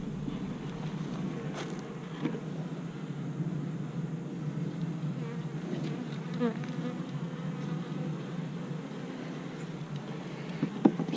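Honeybees buzz steadily at an open hive during a beekeeper's inspection, a continuous close drone with a few individual bees passing near and no talk.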